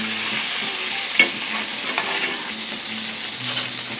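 Potatoes sizzle and fry steadily in a pan, with a faint stirring scrape now and then; no voices.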